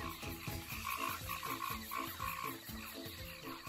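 Frogs croak in a jungle in steady, repeated pulses, a dense rhythmic chorus of many calls overlapping at close range with no voices.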